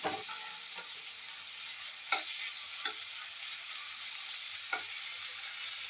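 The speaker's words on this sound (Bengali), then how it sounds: "তো এটা হচ্ছে এখন আমার ভাজা।" Soya chunks fry in a pan over raised heat, giving a steady moderate sizzle broken by a few sharp scraping stirs of a spoon against the pan; no talking.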